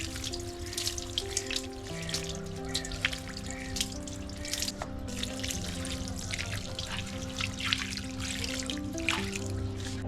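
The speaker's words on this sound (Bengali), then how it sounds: "কড়া রোদটা আসার আগে আমি এই ভোরের টাইমটাতেই গাছে জল দিয়ে দিই" Water is poured onto balcony plants in early morning, a steady trickle and splash running continuously with faint background hum and no voices.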